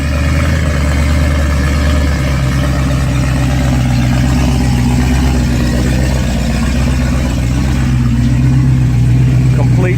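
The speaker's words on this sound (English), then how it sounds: "Sounds like a Corvette." A car engine likened to a Corvette runs with a deep, steady rumble that swells slightly toward the end, while people talk over it nearby.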